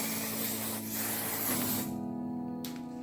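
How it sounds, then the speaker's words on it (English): A steady hiss of aerosol fixative spray onto a paper page for about two seconds, then a short second burst, close by with a faint hum underneath. "just go ahead and spray"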